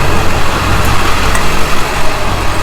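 A 1964 Buick Riviera's engine roars loudly and close up, a dense, sustained blast of exhaust and engine noise held under heavy throttle.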